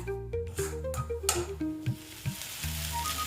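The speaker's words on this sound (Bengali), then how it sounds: "আমরা এটাকে আস্তে আস্তে নেড়ে কষাতে থাকবো।" Spiced cauliflower filling for paratha being slowly stirred and fried in a pan: close, steady sizzling broken by spatula scrapes and stirring strokes, with no voices.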